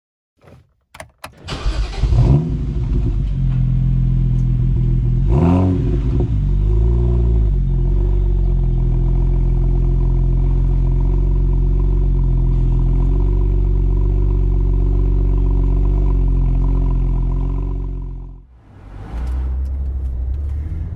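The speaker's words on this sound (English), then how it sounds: "Now let's take this unique car out for a drive and see what makes it so special." A BMW 1M Coupe with a turbo engine starts up and drives, its deep engine drone holding steady and loud after a few opening clunks, then fading briefly before returning.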